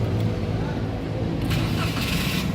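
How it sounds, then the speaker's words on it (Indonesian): A 2016 Daihatsu Ayla 1.0 X manual hatchback engine starts up and settles into a steady idle, close by and fairly loud, with no talking over it. "nah sekarang coba kita nyalakan mobil"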